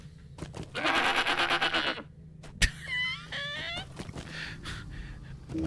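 A goat in Lord of the Rings Online gives a long, loud wavering bleat lasting nearly two seconds, followed after a sharp knock by shorter, thinner bleating calls over faint game ambience.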